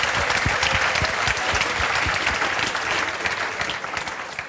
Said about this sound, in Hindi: सबसे पहले तो ICS हांसी के लिए तालियां बजा दो।